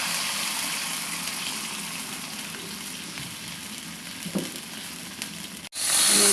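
Fried vegetables simmering in a pan with tikka masala and a splash of water give off a steady, close hiss and sizzle with no talk. A sharp cut near the end is followed by a louder gush.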